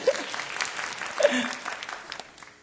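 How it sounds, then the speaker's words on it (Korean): A church youth congregation gives a round of applause, a burst of many hands clapping that swells briefly and then fades away, with a voice speaking over it. "박수 한번 보내주세요"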